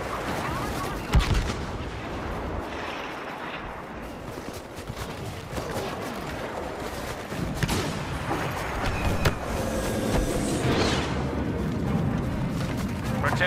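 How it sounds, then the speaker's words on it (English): Rumbling explosions and heavy gunfire from a rebel airstrike in the Star Wars Battlefront battlefield, a continuous chaotic barrage with booming impacts and crackling shots, close and loud throughout. "Rebel airstrike incoming."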